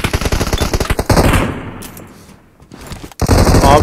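Rapid machine gun bursts in the PUBG Mobile video game, loud dense rattling fire that pauses briefly before another burst erupts.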